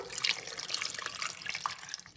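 Water poured into a blender jar over tomatoes, chiles, onion and garlic for a Mexican sauce, a short splashing gurgle of running liquid lasting about two seconds, close and fairly quiet.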